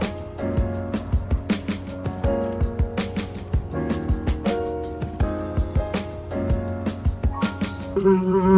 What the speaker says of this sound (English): There's a bug, mosquito.